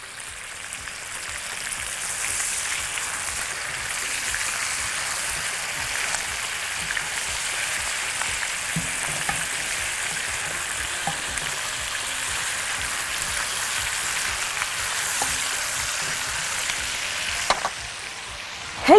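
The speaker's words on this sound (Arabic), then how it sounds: "عايزين بقى ندي تحميره كده لطيفه لقطع الفراخ" Chicken pieces browning in butter and oil in a wok give a steady, dense sizzle and crackle that holds at an even level throughout, close by and with no talking.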